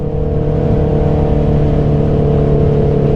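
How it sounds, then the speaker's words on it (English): A 2019 Honda CB650R motorcycle with an aftermarket exhaust runs steadily, a strong continuous engine drone with a held, even rev and no talking. "for me, we'll start with the exhaust"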